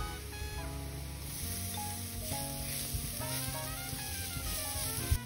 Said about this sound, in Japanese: 玉ねぎとニンニクがこのぐらいしっかり炒まりました